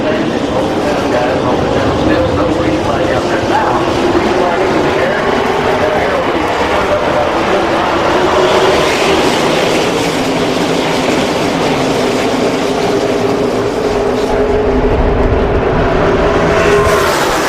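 NASCAR stock cars at Talladega in the 2009 AMP Energy 500 rumble steadily as the field comes down two by two toward the green flag, a dense continuous engine roar under a commentator's voice throughout.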